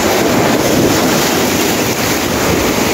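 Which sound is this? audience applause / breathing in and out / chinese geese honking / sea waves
sea waves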